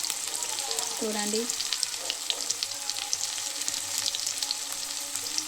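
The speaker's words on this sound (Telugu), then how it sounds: "ఆనియన్స్ని ఫ్రై చేసుకోవాలి ఫ్రెండ్స్." Salted onions for an egg fry sizzle in a hot pan with a constant, close, hissing crackle throughout, while a voice briefly speaks early on.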